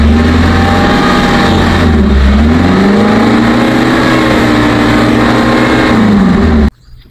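A 2006 Daihatsu Zebra ZL9 engine runs loud and close, revving up and down in smooth swells for several seconds before cutting off abruptly.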